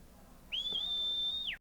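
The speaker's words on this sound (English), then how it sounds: "You can just whistle for a Stolas to come?" A single clear, high whistle calls a Stolas bird in Final Fantasy XVI; the steady tone holds for about a second before dropping off sharply, alone over quiet ambience.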